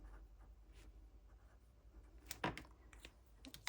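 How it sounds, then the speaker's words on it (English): Pen writing by hand in a paper planner, quiet scratchy strokes close up, growing into a cluster of brisker scribbles with small taps midway, no talking. "write out vitamins"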